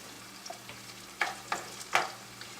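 Spinach and tomatoes sautéing in a pan, a soft sizzle under a few distinct stirring scrapes and clatters spaced about half a second apart, close and moderately quiet.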